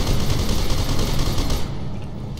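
Sustained assault rifle fire in the shooter game Fear 2 Project Origin, a dense, loud burst of rapid shots that cuts off abruptly near the end, leaving a fading rumble.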